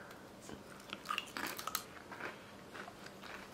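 Crunchy spicy crayfish snack chips are bitten and chewed up close, a quiet run of crisp cracking crunches clustered in the middle and trailing off, with no talk.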